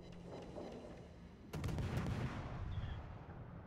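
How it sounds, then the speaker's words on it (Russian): Naval guns fire from a whole enemy flank in World of Warships, a heavy booming salvo striking midway and rolling into a long loud rumble over faint background crackle. "Весь фланг стреляет по мне, по сути."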